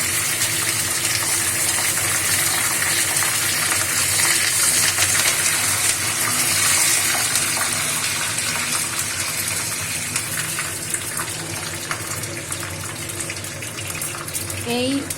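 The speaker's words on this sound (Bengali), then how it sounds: "এবার তেলের মধ্যে কারি পাতাগুলো দিয়ে দেবো। কারি পাতাগুলো মুড়মুড় করে ভেজে নেব।" Curry leaves frying in hot oil for crispy potato bhujia, giving a loud, continuous dense sizzle and crackle that stays close and steady throughout.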